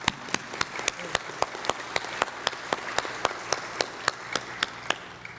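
A small group claps at an outdoor wreath-laying ceremony at Adams National Historical Park in Quincy, giving a steady run of distinct, fairly even claps over a low background hum, thinning out toward the end.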